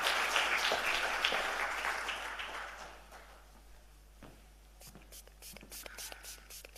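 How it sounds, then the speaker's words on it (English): An audience at an aviation safety event applauds, a dense, loud wash of clapping that slowly thins and fades, leaving scattered claps and light murmurs near the end. "Please give him a round of applause."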